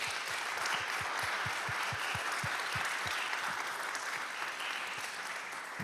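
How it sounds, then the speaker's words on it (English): Steady crowd applause after a talk on being a transgender ally, a continuous wash of many hands clapping with a louder nearby clapper beating out a rhythmic pulse in the first half. "I think we should give a round of applause."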